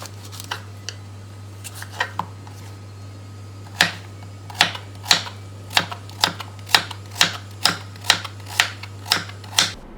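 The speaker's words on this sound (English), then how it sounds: "Next step, I am going to cut it into small pieces." A knife chopping pumpkin into small pieces on a board: quick, evenly spaced crisp thuds that speed into a steady rhythm, close by, over a constant low hum.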